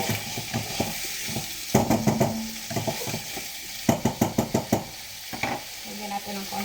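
Chicken and mushrooms sauté in a hot pan, a steady sizzle running throughout while a utensil scrapes and stirs in bursts of quick, loud strokes, close up.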